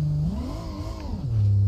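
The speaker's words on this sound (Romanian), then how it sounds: "Nu se oprește motorul." A car engine in the BeamNG driving game revs up, dips and climbs again, a smooth droning tone that rises and falls over a couple of seconds with no talk.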